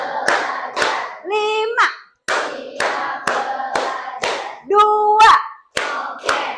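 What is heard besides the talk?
class clapping hands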